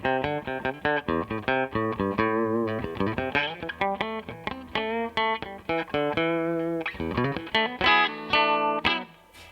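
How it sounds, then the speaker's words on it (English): A Stratocaster played on the middle pickup and humbucker together through an interference effect sounds out a quick run of thin, plucked notes and short chords. The tone lacks bottom end, and the notes are clipped and stop-start over about nine seconds. "you've got like the middle pickup sound of the Strat without its bottom end"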